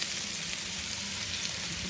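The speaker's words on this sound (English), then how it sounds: "you want the meat to brown a little bit, so it's okay now if it starts to really sizzle on you." Ground meat browning in a pot for Greek bolognese, with a steady dense crackling sizzle close up and constant through the moment, no voices.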